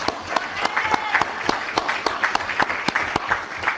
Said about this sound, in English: He deserves a nice round of applause.